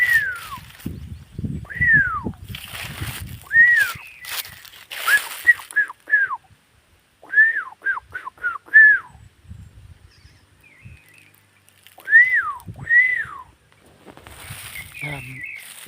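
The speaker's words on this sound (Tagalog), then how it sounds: "Puro lang tunog ng ibon." Birds singing outdoors in the cool hills of Baguio, with repeated clear descending chirps and whistled phrases coming in bursts, fairly close and moderately loud, over low rustling background noise.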